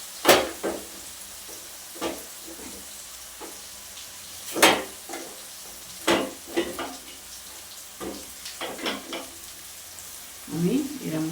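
A spatula stirs jaggery in a pan over a low gas flame, making repeated scraping strokes in an uneven rhythm over a faint sizzle, close and clear with no voices.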